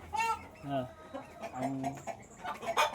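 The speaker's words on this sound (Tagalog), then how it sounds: "Native nga Bisaya gyud nga manok" Native Bisaya chickens cluck in short, repeated bursts, close by and moderately loud, with a few higher squawks toward the end.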